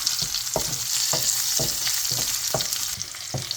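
Sliced onions sauté in a hot pan for tomato chutney, a steady close sizzle broken by regular scraping stirs about every half second, with no voices.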